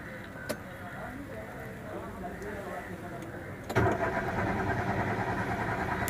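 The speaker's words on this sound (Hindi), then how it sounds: "तो गाड़ी क्रैंकिंग हो रही है।" A Datsun Go+ with a security light fault cranks without starting. A steady starter-motor churn kicks in partway through and keeps running in an even, rhythmic whir against quieter background noise.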